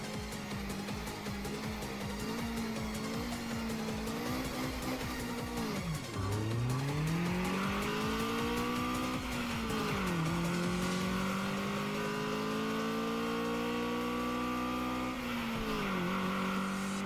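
A race car in a racing video game roars continuously with its engine pitch rising and falling through gear changes. Sharp tire squeals and skids come through in a loud, steady wash with no voices.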